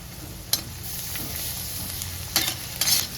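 Crushed garlic dropped into a hot pan for a village-style papad curry, giving a soft, steady sizzle with a few brief clinks and stirring scrapes.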